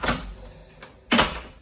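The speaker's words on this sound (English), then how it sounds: "Just shut the door." A room door at the Disneyland Hotel DVC studio swings and shuts, a soft opening rustle followed by a firm, close thud of the door closing, with no talk over it.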